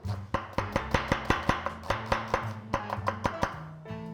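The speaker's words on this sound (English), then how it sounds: "Cut the onion in half, so we just cut the bud out, okay? And we're just gonna just rough chop it" A knife rough-chops a halved, cored onion on a cutting board in a quick, steady run of crisp, close knocks that briefly pause near the end.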